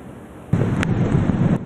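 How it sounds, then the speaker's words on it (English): Tumultuous Hurricane Sandy storm waves pounding Florida beaches: a loud, continuous roar of crashing surf and wind buffeting the microphone, rising abruptly and staying heavy throughout, with no voices. "Tumultuous waves hammering Florida beaches, serious erosion"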